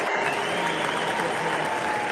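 Crowd applause at the Utah GOP convention, a steady wash of clapping from a large audience that holds at an even level for a couple of seconds without pause.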